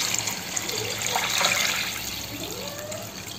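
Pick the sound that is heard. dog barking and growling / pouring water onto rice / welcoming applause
pouring water onto rice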